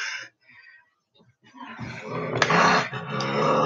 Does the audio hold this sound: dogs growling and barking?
yes